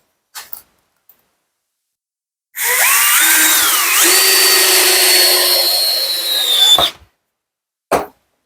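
A power drill drives a screw into a wooden pet bed frame, one loud close whine lasting about four seconds that rises in pitch as it spins up, then cuts off, with brief knocks before and after.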